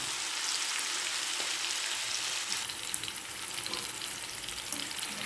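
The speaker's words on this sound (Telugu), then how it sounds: "కాస్త నూనె ఎక్కువ వేసుకుని నేను ఒకసారి వేయించేస్తానండి" Steady, close sizzle of a quarter kilo of small fish (nethallu) frying in a generous amount of oil, a dense continuous crackle with no talking.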